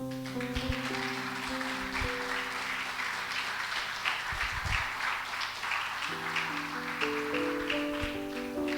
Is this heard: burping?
no